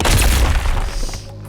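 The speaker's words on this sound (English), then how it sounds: "Continuous explosions echoes from behind the Grey Ribbon Squad." A single loud, deep explosion booms and then rumbles away into a fading roar.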